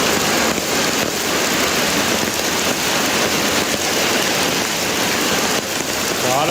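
Heavy monsoon rain pours down at night in hilly Idukki, Kerala, hard enough to flood over a bridge. It is a loud, steady, dense hiss that stays close and unbroken throughout.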